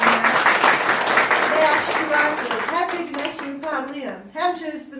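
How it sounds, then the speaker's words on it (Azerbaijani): An audience at an art exhibition opening breaks into applause, dense clapping that starts loud and thins out while someone speaks over it, with a voice faintly audible. "Alqış istəyirəm mənim şöhrələrimdən."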